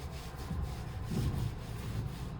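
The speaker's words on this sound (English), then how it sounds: "we're gonna wipe the dust off the door" Cloth wiping sawdust off a freshly sanded wooden front door, a steady soft rubbing swish with slight rhythmic strokes, close and continuous without talk.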